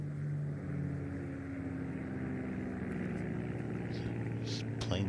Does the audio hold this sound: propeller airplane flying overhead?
yes